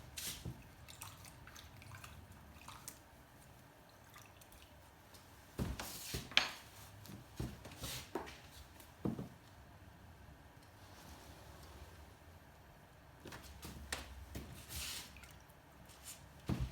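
Water dripped and splashed onto a painting in a studio, heard as faint, scattered wet taps and squishy brush sounds at close range, quiet and irregular.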